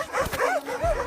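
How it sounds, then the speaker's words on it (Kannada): A dog lets out a few quick, high barks and yips, fairly close and clear, with no talking over them. "ಅದೇ ಅನ್ಕಡೆ ಯಾರೋ ನಾಯಿ ಬೋಳ್ತೈತಲ್ಲ ಅಂತ"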